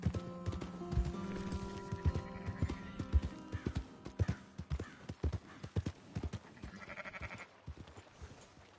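Horse hooves clip-clop at a steady walking pace in Red Dead Redemption 2, with sheep or goats bleating faintly and game sounds layered underneath.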